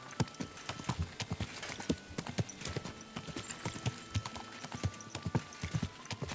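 A horse walks slowly along a street in Kuttenberg, its hooves making a steady, even clip-clop close by, with a faint background hum.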